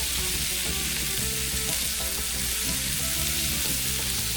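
Sliced onions and baby portobello mushrooms fry in a hot pan, giving a steady, close, continuous sizzle with no talking over it.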